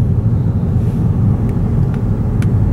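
A car rolls through a full high school parking lot in Mississippi, a steady, loud low rumble of engine and road noise with no talking.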